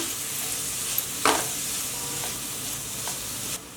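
Steady sizzling of bell peppers and vegetables stir-frying in a pan for street-style veg fried rice, with a few scraping stirs of a utensil partway through; close and moderately loud, no voices.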